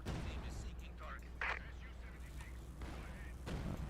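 Mortar fire in the World War II strategy game Company of Heroes 2: a dense battlefield rumble with a sharp blast just before midway, plus scattered distant bangs, under voiced unit callouts.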